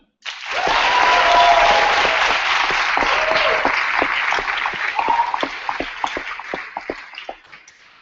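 An audience at a debating tournament grand final claps, starting suddenly and thick, then thinning into scattered individual claps as it dies away; a faint tonal sound or voice appears briefly early on.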